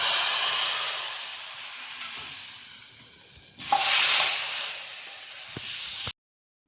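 A loud burst of sizzling as hot tempering oil is poured into langar-style dal in a pressure cooker, flaring suddenly mid-clip over a steady background hiss, then settling into a softer crackle.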